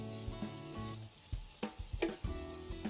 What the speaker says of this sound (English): Saute the masala as well.